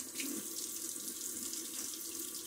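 Tap water runs steadily from a faucet into a sink to wet a boar-bristle shaving brush during a wet shave, a close, continuous hiss with no talking.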